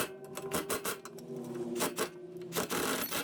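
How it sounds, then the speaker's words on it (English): Steady ratcheting and metallic working sounds as an 18mm socket loosens and removes the front strut bolts on a 2007-2011 Honda CR-V, a busy close-up stretch with repeated sharp clicks and an underlying whir. "We're gonna go ahead and break these loose. We're gonna go ahead and remove the bottom one."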